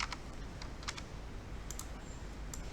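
A computer keyboard is tapped in quick, light clicks to enter a value into geological horizon tracking software, faint and close, with scattered bursts of keystrokes over a soft steady background hiss.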